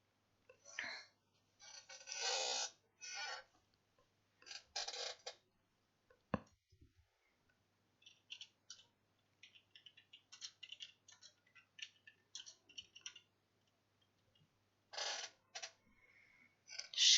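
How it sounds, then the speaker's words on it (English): A squeaky chair creaks in repeated short bursts, some drawn out and some clipped, close by and otherwise quiet between them. "Squeaky chair is squeaky."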